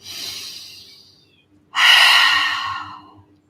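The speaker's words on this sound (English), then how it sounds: "One more big breath." Two deep breaths during a yoga practice: a soft, airy breath fades out, then after a brief pause a stronger, louder, close breath swells and slowly tapers, with no talking.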